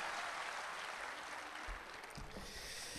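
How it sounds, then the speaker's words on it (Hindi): Audience at a patriotic poetry event welcoming poet Gajendra Solanki with thick, steady applause that fills the whole stretch, with a few thumps near the end. "जोरदार तालियों के बीच बुलाएं गजेंद्र सोलंकी"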